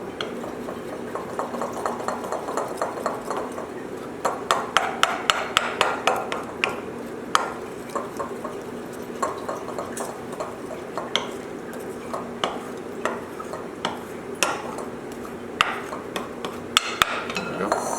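A spoon scrapes and clinks against a bowl while fresh tomato sauce is mixed, giving a steady run of close metallic taps and knocks.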